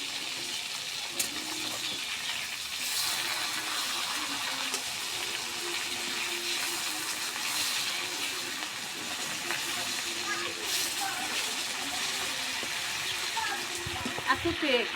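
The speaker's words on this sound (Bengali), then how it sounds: "দেখুন এবার সুন্দর করে মাছগুলো আমরা ভাজি নেব সরিষার তেলের জন্য।" Fish frying in foaming mustard oil in a pan, giving a steady, close, even hiss and sizzle throughout, with a few faint clicks near the end.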